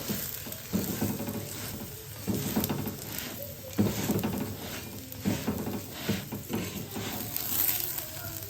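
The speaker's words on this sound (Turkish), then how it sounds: "Tava sıcak olunca hemen kızarıyor." Paratha fries in a hot pan, a soft continuous sizzle broken by repeated scraping and turning sounds from stirring or flipping, quiet and close with no speech.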